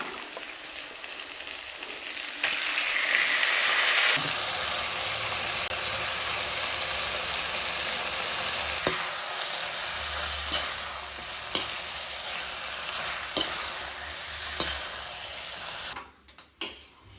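Country chicken is stir-fried in a pan with tomato and spices for a varuval, a steady sizzle with occasional scraping stirs and clacks of a spatula that ends with a few louder knocks.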